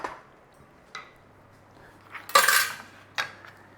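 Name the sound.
stirring chicken and juices in a pan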